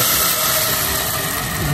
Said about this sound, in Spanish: Dejamos caer la salsa y que suene